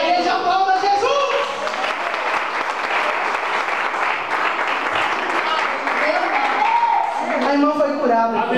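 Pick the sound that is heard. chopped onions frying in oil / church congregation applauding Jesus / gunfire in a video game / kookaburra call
church congregation applauding Jesus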